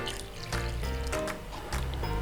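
Water trickling and pouring into Yorkshire pudding batter in a bowl in short bursts, close and quiet, with a soft splashing texture.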